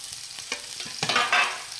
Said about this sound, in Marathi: आता कांदा आहे, कांदा टाकून देऊ।